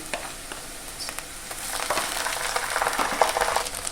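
Ginger garlic paste sizzles and fries with browned onions in a pan, a steady crackling hiss that grows denser toward the end, with light stirring scrapes and no talking.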